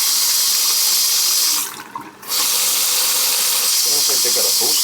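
Water runs steadily from a Delta faucet with good pressure and a hot-water booster pump, a loud close hiss that briefly cuts off for about half a second, then resumes.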